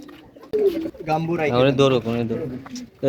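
Pigeons at a pigeon farm coo nearby, with several throaty rolling calls mixed together and a person talking over them.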